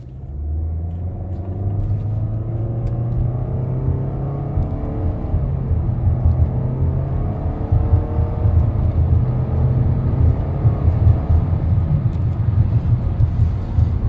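Nissan Altima 2.5 SV accelerating in drive at about half throttle, its engine note climbing steadily over a continuous road rumble, close and loud, with no talk.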